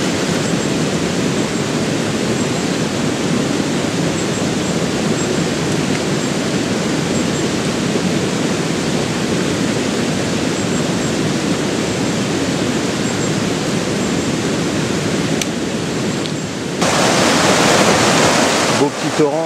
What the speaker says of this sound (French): Beau petit torrent là.